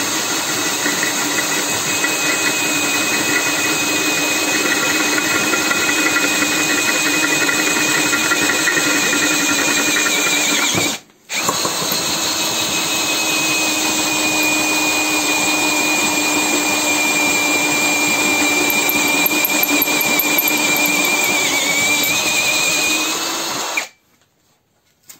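A Parkside Performance PSBSAP 20 cordless hammer drill drilling into pre-drilled material, a loud, steady motor whine held for long stretches, broken by one brief stop before it winds down.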